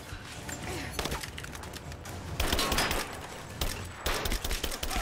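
Gunfire from the Rise of the Tomb Raider video game, in a gulag escape sequence: dense, crackling bursts of shots rattle steadily, growing louder in clusters near the middle and end, with faint voices underneath.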